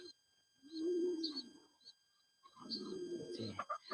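Pigeons, including a white one, coo in two soft, rolling bursts separated by a brief pause, fairly close and otherwise quiet.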